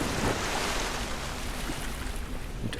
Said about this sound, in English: It spits water.